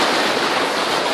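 Loud, continuous rush of North Sea surf at Kijkduin beach in the Netherlands, broadband and steady, like waves breaking close by, with no voices.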